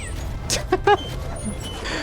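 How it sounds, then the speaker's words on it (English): A stock cat meow sound effect voiced by an enemy in Code Vein 2, heard as a short, fairly loud yowl over game sound. "I like how they just took the most generic cat sound effect and just slap it onto the enemy"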